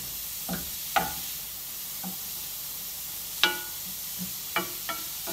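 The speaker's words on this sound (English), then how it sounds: "And then I'm gonna add the cauliflower. And I'm just gonna lightly saute that." Cauliflower sautéing lightly in a pan with salt, heard as a soft steady sizzle broken by scattered clicks and taps of a utensil against the pan, no talking.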